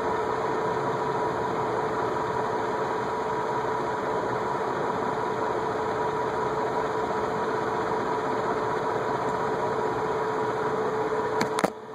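A Venton VEC industrial ceiling fan runs steadily with a continuous even hum and whir that holds constant, with a faint click near the end and no speech.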